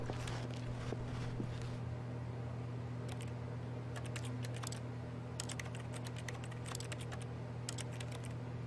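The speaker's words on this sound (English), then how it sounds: "That's me clicking left click." Quick clusters of light clicks from a mouse button being pressed while playing The Stanley Parable, scattered over a steady low hum with no talk.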